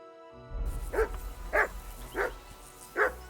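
A dog in the video game Kingdom Come: Deliverance 2 gives four evenly spaced barks at a moderate distance over a low ambient game rumble.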